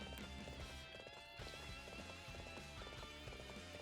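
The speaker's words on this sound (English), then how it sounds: "My horse only goes so fast." A horse gallops in Dynasty Warriors 7, rapid rhythmic hoofbeats pounding steadily over a battle soundtrack and ambient game noise throughout.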